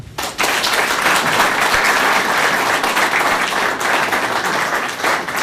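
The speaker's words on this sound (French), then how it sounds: "Cela peut être suivi des applaudissements" Sustained, dense applause from an audience at a ceremony where a certificate of recognition is presented during a regional training on cross-border crime. It starts almost at once and keeps a steady, loud, even wash of clapping throughout.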